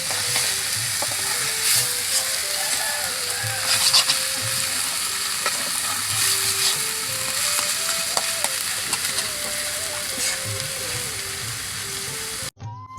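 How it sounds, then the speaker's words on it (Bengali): Jhumur greens and potato frying in oil with onion in a pan, a continuous loud sizzle with scraping stirring strokes throughout, and a faint voice in the background. "ভালোভাবে নাড়াচাড়া দিয়ে পেঁয়াজ তেলের সাথে শাকগুলো মিশিয়ে নেব"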